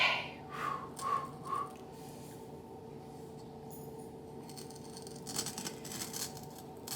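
Scissors or a blade cut through carpet at close range, with a few short snipping strokes early on, followed by quieter scraping and rustling.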